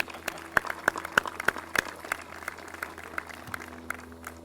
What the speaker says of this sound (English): How about one more round of applause for my boss?